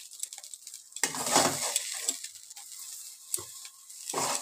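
Eggplant slices fry in mustard oil in a wok, a bright crackling sizzle that swells in bursts with stirring and spatula scrapes, close and without talk.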